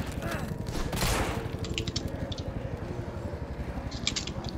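Pistol gunfire in the PC zombie game No More Room in Hell, with one loud shot burst early and then scattered sharp clicks and faint rapid pops over a steady low game hum.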